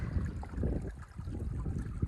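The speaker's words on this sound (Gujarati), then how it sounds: "પવન બહુ આવે છે." Strong wind buffets the microphone in low, gusty rumbles on open farmland, with no voices heard.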